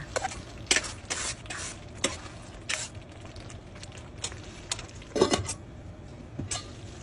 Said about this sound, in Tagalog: halo-halo lang po ulit para po hindi dumikit yung ating pasta sa ating cookware